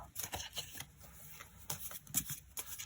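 Tarot cards shuffled and drawn up close, a quiet run of soft flicks and papery taps in irregular clusters.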